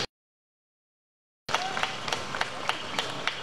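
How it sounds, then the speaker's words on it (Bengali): Audience clapping for a drawing competition prize winner at a school event, a steady dense patter of many hands with a few sharper claps, starting abruptly after a second and a half of silence. "আমরা সকলে করতালি দেই, সকলে করতালি দিয়ে উৎসাহ জাগাই।"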